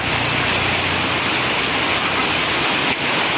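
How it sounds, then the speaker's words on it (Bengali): Steady, dense roar of heavy rain pouring down continuously, loud and close, with no other sounds standing out. "এই যে দেখেন প্রচুর বৃষ্টি"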